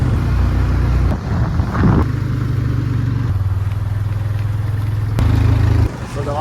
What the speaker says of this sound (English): Truck coming on the other side there.